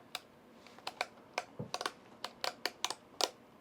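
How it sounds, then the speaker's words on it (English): Toggle switches on a ROWSFIRE A101 compact Airbus overhead panel are flipped one after another, making about a dozen crisp, close, quiet clicks in a quick, irregular sequence. "With the switches itself, I like. They feel really good, really clicky."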